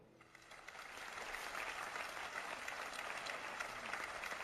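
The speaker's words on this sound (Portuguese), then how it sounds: "Eu peço uma salva de palmas para a doutora Catherine Hayhoe." Steady audience applause follows a call for a round of applause for Dr. Katharine Hayhoe at a climate talk, a dense, even patter of many hands that swells slightly after the start and holds at moderate distance with no talking over it.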